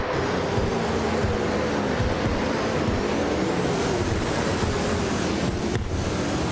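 Racing game cars, including a 2008 Ford Falcon FG, roar continuously in a steady dense engine and road rush, loud and unbroken throughout with no voices.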